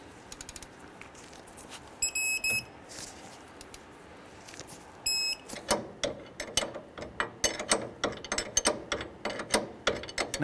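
A wrench tightens the front strut-to-knuckle bolts, 19 and 22 mm, on a 2003-2011 Honda Element, with bursts of rapid ratcheting clicks up close, preceded by two short high electronic beeps.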